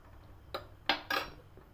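A spoon scraping through thick vermicelli payesh in a pot, milk-based and thickened, giving three short clinking scrapes against the metal rim and sides, close up, with no voices.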